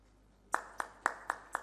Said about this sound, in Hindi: तालियां लगातार बजती रहें।